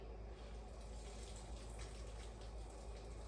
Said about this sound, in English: Do you hear all that water coming out?